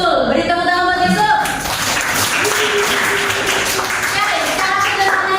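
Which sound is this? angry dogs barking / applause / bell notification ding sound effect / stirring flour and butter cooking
applause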